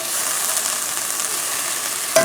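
Pieces of Spam frying in a pan give a loud, continuous close-up sizzle, with a brief sharp knock near the end.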